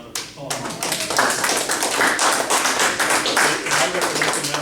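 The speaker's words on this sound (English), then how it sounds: "I'd like to give you guys a round of applause" A round of applause for event organizers in a room, dense overlapping claps starting abruptly and continuing loud and steady.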